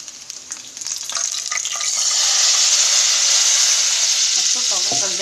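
Hot garlic and chili tempering hits a pot of mixed vegetable dal: gentle crackles first, then a loud, sustained hiss of sizzling that swells and holds close by, with faint kitchen clatter and no speech.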